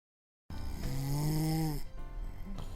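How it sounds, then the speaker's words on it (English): Barney gives one loud, close, drawn-out rumbling snore that starts abruptly after a brief silence and continues as rough breathing, with no talk. "Barney turned over and snored like thunder, so loudly it shook the walls"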